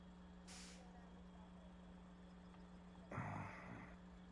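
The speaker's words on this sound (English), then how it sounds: "put her handbrake on, and shut the truck off" A sharp pneumatic hiss of a truck's air brake being set in SnowRunner sounds once clearly, following an earlier brief hiss, over a steady low engine idle.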